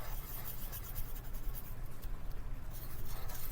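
A marker drawing eyes on paper, with soft, steady scratchy strokes rubbing across the page, close and quiet, continuing with small pauses over a faint low background hum.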